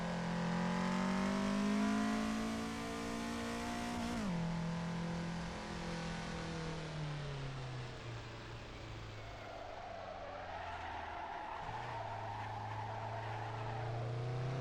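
A Roku Nana (rotary-engine car) revs hard while sliding sideways through mountain pass touge corners, a loud droning engine note climbing and dipping with gear changes, tires hissing beneath it, continuous and close.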